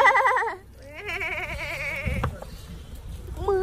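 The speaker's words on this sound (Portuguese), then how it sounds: "aqui tem muita cabra" Goats in a herd bleat loudly and close by, several wavering calls overlapping one after another, with a person's voice briefly heard among them.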